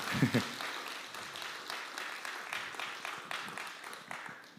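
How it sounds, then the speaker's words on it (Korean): A church congregation at a Friday prayer meeting in Gaepo-dong gives soft, steady applause for the middle school group. The clapping is fairly faint and distant and tapers slightly toward the end. "우리 중등부 친구들 격려하는 차원에서 박수 한 번만 다시 쳐주시면 좋을 것 같습니다"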